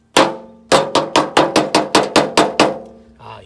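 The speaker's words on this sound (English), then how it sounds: "I'm going to use a lighter weight hammer here." Ten or so sharp metallic strikes from a light hammer ring out in a quick, fairly even rhythm on Subaru Legacy suspension work, each with a short clanging decay, close and loud, ending with a faint rustle.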